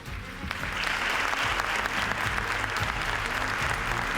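Sustained applause from an audience at a local sports awards gala, a steady dense wash of many hands clapping, fairly distant and even, with no speech over it.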